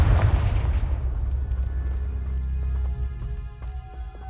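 A Confringo blasting spell explodes in the video game Hogwarts Legacy with one loud, deep boom that rolls off into a long rumbling decay, followed by faint scattered debris and ringing tones.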